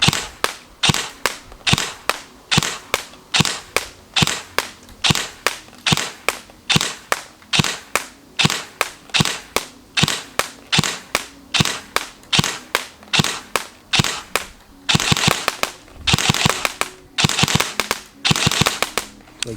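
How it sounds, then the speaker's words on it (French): Sharp, snappy shots from a G&G ARP566 airsoft electric rifle fire one after another at a steady pace, each with a short metallic spring twang, then speed into a rapid burst toward the end. "Fantastique bruit de ressort. Ah, mais par contre là ça pète dur."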